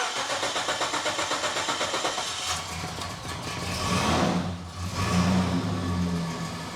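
A carbureted car engine cranks with a fast, steady rhythmic churn, then catches and settles into a loud, rough idle that swells and dips, the car raised off the ground.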